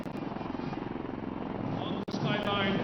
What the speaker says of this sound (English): On the skyline, helicopters of 603 Independent Aviation Brigade are approaching the saluting lines.